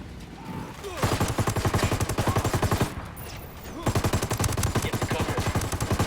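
Sustained automatic gunfire in Ghost Recon Wildlands, set in Santa Blanca: rapid, loud, evenly spaced bursts that run for about two seconds, pause briefly, then resume steadily to the end.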